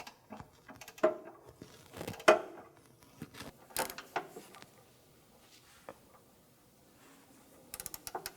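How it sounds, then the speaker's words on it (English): Torque wrench with a 21 millimeter socket ratchets on a control arm bolt of a 2007-2017 Jeep Compass, giving sparse, faint clicks and metallic clanks with quiet gaps between them and a quick burst of clicks at the end. "I'm going to put a 21 millimeter wrench on the top, and then my torque wrench on the bottom, 21 millimeter socket"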